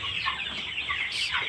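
Backyard meat chickens cluck and murmur in a small flock, a continuous near chatter of soft overlapping calls.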